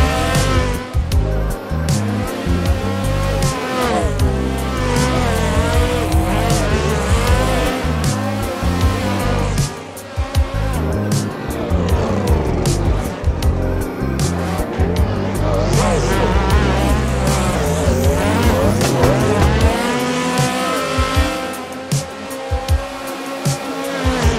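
Drift cars on a tandem run, engines howling and revving continuously with loud, sustained tire squeal from close by, pitches rising and falling across the whole stretch.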